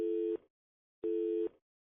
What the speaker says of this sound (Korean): 계속해서 A 휴대폰에 전화를 했지만 계속 통화 중으로 연결되지 않았습니다